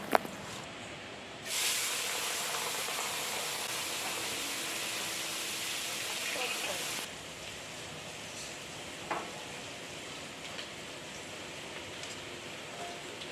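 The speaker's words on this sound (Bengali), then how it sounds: "তেল গরম হওয়ার সাথে সাথেই মাছগুলো ভেজে নেব" Prawns coated in salt, chilli powder and turmeric sizzle in hot oil, a steady loud hiss that swells for several seconds then settles into a softer frying crackle with occasional pops.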